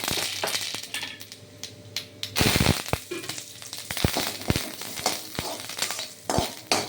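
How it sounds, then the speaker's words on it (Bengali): Curry leaves and mustard seeds temper in hot mustard oil for a coconut chutney, giving a steady close sizzle with sharp pops and spatters. Utensil clinks and clatters break in throughout, and no one speaks. "কটাতে তেল দিয়ে দিয়েছি সর্ষের তেল এই কারি পাতা"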